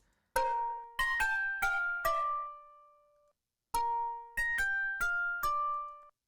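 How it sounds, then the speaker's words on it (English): Dry, unprocessed synth with no effects: a bright, bell-like tone plays four quick notes, sustains, pauses, then repeats a similar four-note pattern, each note sharp-attacked and fading, alone and clear. "bypass all these plugins so you can see what that synth sound sounds like before I did anything to it"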